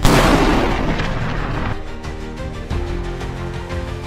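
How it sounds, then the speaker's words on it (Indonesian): Gunfire at the close of a gangster film, a loud, booming burst followed by a rumbling decay and a second softer thud, heavy and reverberant with no talking. "Film diakhiri dengan suara letupan senjata."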